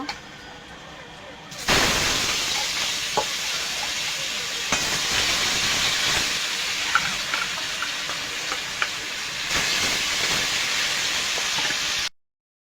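Rohu fish pieces fry in oil in a karai, giving a loud, continuous close-up sizzle and hiss that starts abruptly, surges a few times, and cuts off at the end, with voices faintly present.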